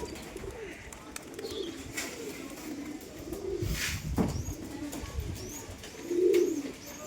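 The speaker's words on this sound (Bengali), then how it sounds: "এই যে এখানে বালি পায়রা আছে, কিছু লক্কা আছে, সুন্দরী আছে, চোর পায়রা।" Fancy pigeons, including Rajshahi, Bali, Lakka, Sundori and Chor breeds, coo in a loft with soft, low, repeated calls and a few faint chirps nearby.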